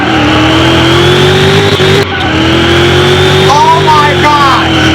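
A 7500 hp drag car in a car mechanic game launches hard off the line, its engine roaring loud and sustained with a rising pitch, a brief break mid-run, then tire squeal and revving; a voice speaks over it.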